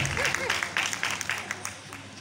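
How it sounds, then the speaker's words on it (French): An audience applauds at a choir concert, giving a steady wash of many hands clapping that stays fairly loud and close for a couple of seconds, with a voice faintly underneath. "Merci beaucoup, on l'applaudit. On l'applaudit très très très fort."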